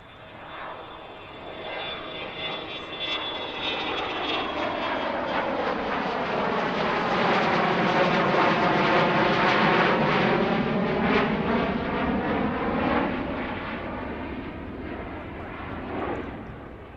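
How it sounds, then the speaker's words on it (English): A Gulfstream business jet passes by at Allentown airport with a loud, swelling jet roar that builds, peaks near the middle, then fades away, its pitch sweeping in a clear Doppler shift. "This is a Gulfstream going to Trenton, New Jersey."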